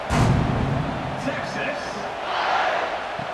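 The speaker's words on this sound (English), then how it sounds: "They're set to kick it off, and this crowd now ready to get behind them." Stadium crowd noise swells before kickoff in College Football 26, Texas Longhorns vs UTEP, a broad roar of cheering under a play-by-play commentator's voice, with a brief thump near the start.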